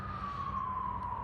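A distant emergency siren wails with a long, slowly falling tone over low rumbling outdoor background noise, steady and moderately faint throughout.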